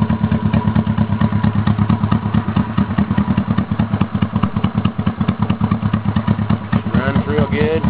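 A Honda CB350 motorcycle engine runs close by with a steady, even, thumping idle, loud throughout, while someone briefly speaks near the end.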